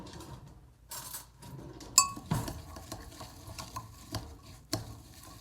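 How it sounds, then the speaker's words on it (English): Sliced almonds stirred into rhubarb coffee cake topping in a bowl, with soft scraping and irregular light clinks of a spoon against the bowl, fairly quiet and close, several knocks spread across the stretch, and no speech. "I'm going to just pop in about 1/2 cup or so of the almonds and give that a stir"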